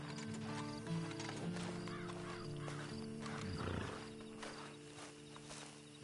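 In Red Dead Redemption 2, a horse gives a rising whinny midway through, over a continuous in-game ambient bed with tonal music-like hums and faint hoof and tack clatter.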